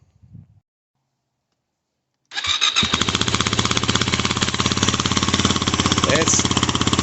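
A Yamaha WR250R dirt bike fitted with a cheap aftermarket Honda CRF230F muffler fires up after a brief rustle and silence, then settles into a loud, steady, close-up rapid-fire idle.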